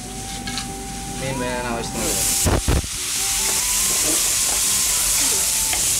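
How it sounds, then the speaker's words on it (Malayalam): Water hits a hot pan of coconut-milk fish curry with fenugreek, setting off a loud sudden burst of sizzling midway. A softer steady hiss runs before and after, and a voice talks throughout. "നമുക്ക് വെള്ളം ഒഴിക്കാം."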